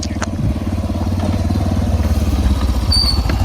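A motorbike engine runs close by with a steady rapid pulsing thrum that holds loud throughout the clip, with no talk over it.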